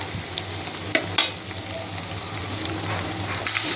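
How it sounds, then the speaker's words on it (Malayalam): Tomatoes frying with onions in a pan for dal khichdi give a continuous close sizzle, with a couple of sharp spoon knocks early on and steady stirring scrapes throughout, no voices. "അടുത്തായിട്ട് നമുക്ക് ഇതിലേക്ക് തക്കാളി ചേർത്ത് കൊടുക്കാം"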